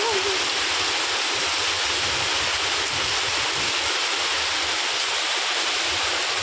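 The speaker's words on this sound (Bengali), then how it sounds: "দেখেছ বন্ধুরা কেমন বৃষ্টি ঝড় হচ্ছে আমাদের এখানে।" Heavy rain pours down in a storm, a dense, loud, steady roar of water that never lets up.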